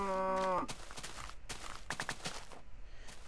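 A blocky Minecraft cow lets out one short synthesized moo at the start, followed by soft scattered in-game clicks and footstep-like taps.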